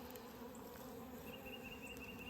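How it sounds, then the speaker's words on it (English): Honey bees buzz around a backyard beehive on a small farm, a soft continuous drone of many insects nearby with no speech. "This is the first hive we set up."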